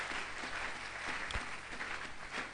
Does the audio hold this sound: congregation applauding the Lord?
yes